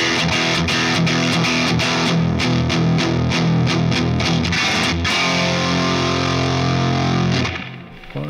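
Single-coil electric guitar played through a RAT distortion pedal, loud gritty chugging riffs with rhythmic palm-muted strums, continuous and alone, dropping off at the end.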